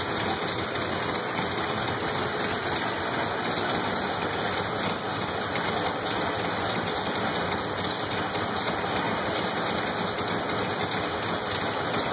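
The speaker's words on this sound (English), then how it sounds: "you hear the idle. It's got a nice rough idle to it." A Chevy 400 V8 idling rough at around 650-700 RPM, heard as a steady, dense rumble that runs unbroken for the whole stretch with no talk over it.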